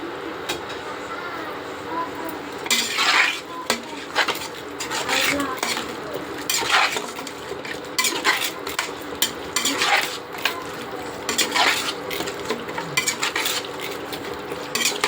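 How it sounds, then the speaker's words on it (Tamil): Mutton being stirred in a pot for biryani, with repeated scraping and clattering of a metal spoon against the pot over a soft sizzle, in irregular strokes, close and fairly loud, while a voice talks. "மட்டனை போட்டு கிளை வச்சிடணும்"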